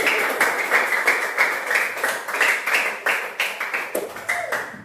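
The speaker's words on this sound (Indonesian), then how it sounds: "Tepuk tangan buat dari anak-anak ini." Children clapping together in a classroom, a steady patter of many small hands with no talk over it, fairly close and even in loudness.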